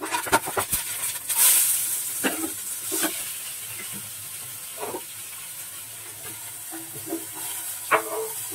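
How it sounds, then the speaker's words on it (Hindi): Spice tempering in hot oil sizzling and crackling with a steady hiss, a few sharp pops and clinks over it, close by. "और अब बारी है तड़का मारने की"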